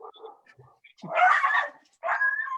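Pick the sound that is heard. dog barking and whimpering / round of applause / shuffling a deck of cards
dog barking and whimpering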